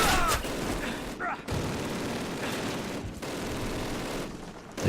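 Gunfire in Call of Duty Classic plays as a continuous loud barrage of rifle and machine-gun shots under game ambience, with a few brief gaps between bursts.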